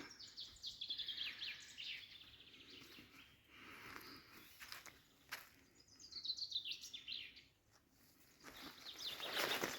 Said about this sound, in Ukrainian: Пташки співають, аж заливаються.